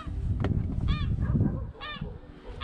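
A goose honks twice, loud and nasal, over a busy rumbling background of outdoor noise.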